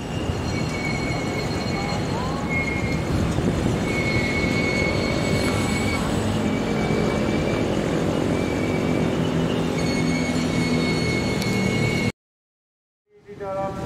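A train rolls through Ngawi station at night with a sustained heavy rumble and intermittent high wheel squeals, loud and close, before the sound cuts abruptly to near silence.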